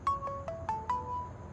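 A phone ringtone chimes in a quick series of bright, muffled tones from inside a bag, with low room rumble beneath.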